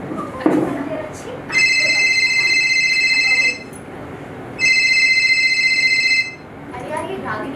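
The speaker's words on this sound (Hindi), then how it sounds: "ये रागिनी बार बार फोन कर रही है" A telephone rings in two long, bright electronic bursts separated by a short pause, loud and close, with faint voices and movement around it in an indoor comedy stage play.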